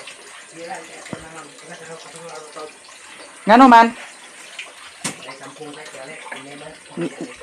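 Water runs from a tap into a basin for rinsing rice, a brief louder gush in the middle amid steady household clatter, with people speaking Cebuano close by.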